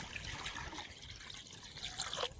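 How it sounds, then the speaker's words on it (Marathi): Water from a village river trickles and splashes into a kadai (wok), a soft steady pour at close range that swells briefly near the end. "आपण कढईत पाणी टाकून घेऊ"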